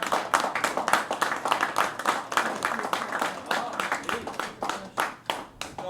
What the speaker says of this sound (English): Let's give Meg a big round of applause.